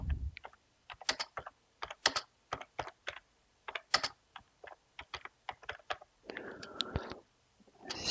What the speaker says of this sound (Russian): печатаю на английском